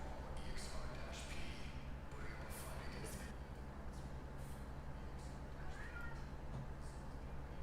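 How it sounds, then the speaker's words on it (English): Cats meow repeatedly in the horror video game Pressure, a string of thin high cries over a constant loud mechanical rumble, with a player's voice talking over the game sound. "Now, why are they meowing like that?"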